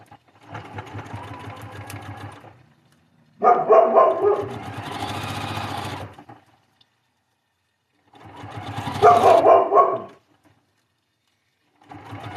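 A Bernese mountain dog gives short vocal barks and grumbles in two bursts that are partly masked by a sewing machine running in loud, steady stretches, with quiet gaps between the runs.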